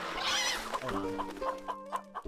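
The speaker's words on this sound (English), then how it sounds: "The chicken sound is getting annoying." Chickens cluck in the Stronghold Definitive Edition strategy game, a run of short clucks over game music and ambient sound, moderately loud.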